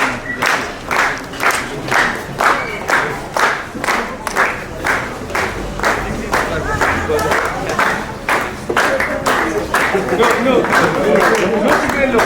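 An audience claps together in a rhythmic, evenly paced burst at an indoor ceremony, loud and close, continuing steadily and swelling toward the end.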